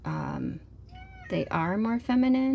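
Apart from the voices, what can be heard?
cat meowing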